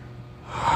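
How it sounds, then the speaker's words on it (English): A tired man yawning, a single close breathy intake that swells into an open, drawn-out exhale near the end. "Oh my god, I cannot stop yawning."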